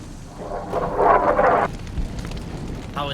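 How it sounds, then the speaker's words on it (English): A howitzer fires in Fallout: New Vegas with one loud, rumbling boom that swells and then fades into a brief echoing tail. "Howitzer's opening fire."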